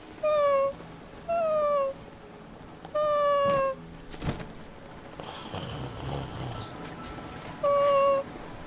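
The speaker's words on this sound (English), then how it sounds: "Cat sounds." A cat meows four times, short clear rising-falling cries at fairly even intervals, with quieter rustling and a soft breathy noise in between.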